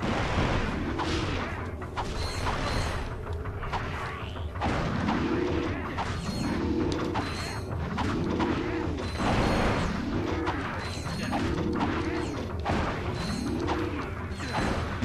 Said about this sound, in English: I'm just gonna keep killing them with my wrench.